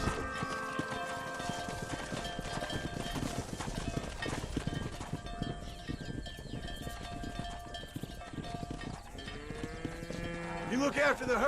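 In the video game Red Dead Redemption, clopping horse hooves and lowing cattle move through a busy, layered scene, with voices calling out over the herd.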